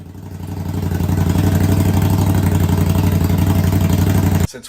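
International Harvester Scout engine running steadily with a newly installed RPW exhaust, a loud, close, even idle with a throbbing low pulse that cuts off abruptly near the end.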